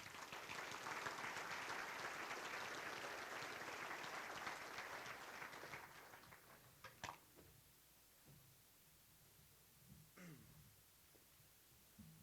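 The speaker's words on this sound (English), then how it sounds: "Let's have a nice round of applause for Akron native Collin Floyd" A banquet audience at a university scholarship and ring dinner breaks into applause that holds steady and loud for several seconds, then thins out to scattered claps and quiet room noise.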